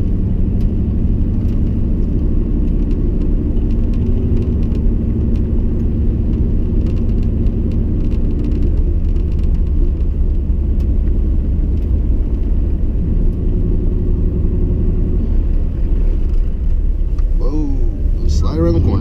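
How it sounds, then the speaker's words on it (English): Steady low rumble of a pickup truck driving on a snowy road, with a continuous engine drone and road noise throughout and a faint voice near the end. "just the sound of the road, right? Or the truck in this case."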